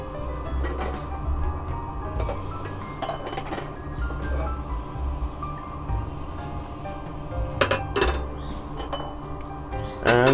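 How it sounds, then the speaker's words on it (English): Glassware clinks and knocks repeatedly as it is washed during lab work for refining gold with dilute sulfuric acid, sharp irregular chimes over a steady background hum with no talking. "Let's wash the white glass first."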